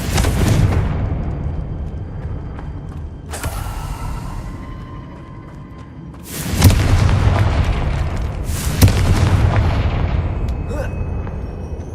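Confringo fire spell in Hogwarts Legacy on Xbox Series X, with heavy booming blasts that roll out into long rumbling, creaking decays, one after another at close range.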